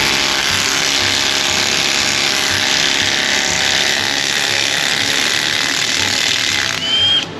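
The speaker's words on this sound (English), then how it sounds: "let's see if this 1/4-inch driver is going to take these bolts out" A 1/4-inch impact driver hammers continuously on the axle cover bolts of a 2005 Silverado with the 6.0 LQ9, a loud, steady, buzzing rattle close by that cuts off near the end.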